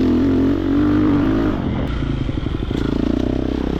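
A Triumph TF250X motocross bike is ridden hard, its engine a loud, close, sustained drone that turns into a rapid choppy pulsing as the throttle changes.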